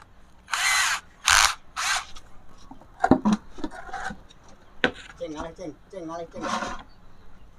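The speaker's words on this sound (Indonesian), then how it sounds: "lalu kita lubangi pakai bor ya guys" Several short, loud bursts of a power drill boring holes around the edge of a drum lid, followed by people talking with faint clatter.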